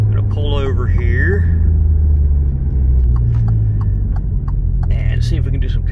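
An Alfa Romeo Giulia 2.0 turbo engine floored while stuck in limp mode gives a deep, steady droning rumble from inside the cabin, with a person talking over it at the start and again near the end.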